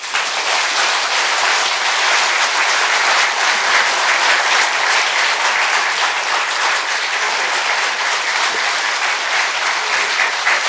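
A large audience at a political forum applauds loudly and steadily, a dense unbroken wash of clapping that holds at full strength from start to finish.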